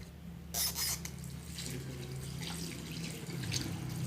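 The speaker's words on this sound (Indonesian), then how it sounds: "Lalu dibilas menggunakan air mengalir." Tap water runs steadily into a sink while hands are rinsed under it. A continuous hiss of flowing water carries irregular splashes from the hands moving through the stream, close and moderately loud.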